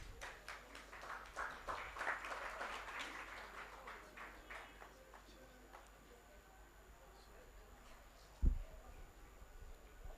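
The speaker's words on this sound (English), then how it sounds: "So a round of applause as he makes his way to the stage." A conference audience at a health-tech summit gives faint, scattered applause as a presenter walks to the stage. The clapping thins out after a few seconds, and a single dull thump follows near the end.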